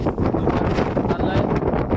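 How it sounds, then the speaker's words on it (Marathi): Strong wind buffets a merchant ship rolling at sea in bad weather, a loud continuous roar of gusting noise for the whole moment. "वारा सुद्धा तेवढा जोर जोरात येत आहे"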